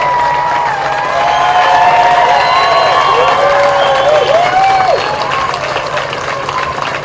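Crowd applause and cheering for the San Diego Pride Youth Marching Band at a Pride block party, a broad steady wash of clapping with rising whoops and shouts layered on top throughout.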